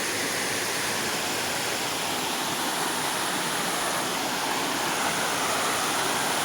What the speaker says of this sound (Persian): آبشار بلنده و میگن که از بالا با ضربه میاد پایین